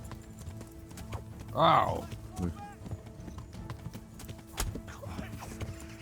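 Horse hooves clip-clop and gallop in the game Kingdom Come: Deliverance during mounted combat, steady and mid-distance, as a man lets out a short pained shout.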